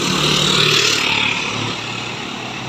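Scania truck in a convoy accelerating hard, a steady loud engine roar with broad road and wind rush that eases slightly toward the end.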